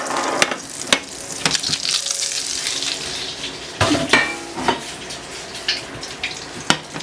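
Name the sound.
burger patty frying and sizzling in a skillet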